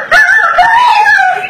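A man vocally imitates a crowing rooster hit by a shoe, producing a short, strained, wavering crow that wobbles in pitch for just over a second, close and loud with no other sound.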